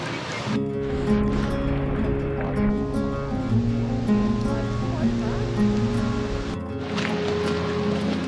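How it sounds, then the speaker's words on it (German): A waterfall in Iceland roars as a steady, dense rush of falling water, loud and close, filling the whole stretch with continuous broadband noise. "Wir sind jetzt nämlich beim Wasserfall angekommen."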